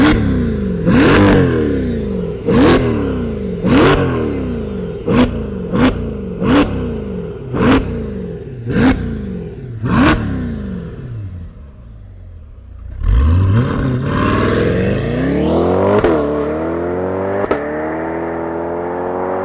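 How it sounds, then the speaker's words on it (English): A 2025 Chevrolet C8 Corvette E-Ray V8 revs loudly and close by in a rapid string of sharp blips, each rising and falling away. A smoother, sustained engine run with climbing pitch follows. "let's fire up this Corvette and hear if it makes that V8 sound"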